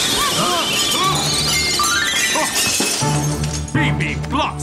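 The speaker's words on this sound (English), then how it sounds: "Bibi Blocksberg, how dare you come crashing through my window" Window glass shatters loudly as a character crashes through it in the Bibi Blocksberg cartoon, a bright crash and tinkling debris under music and voices.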